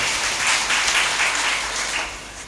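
Loud, continuous clapping from the women in a crowd at a Marathi spiritual discourse, a dense steady patter of many hands that lasts throughout with no speech over it.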